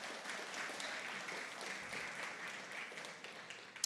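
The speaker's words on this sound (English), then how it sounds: "Round of applause for the folks who pitched today." Audience applause for pitch presenters at an innovation and entrepreneurship awards night, a steady wash of clapping that is fairly soft and distant and holds for the whole stretch.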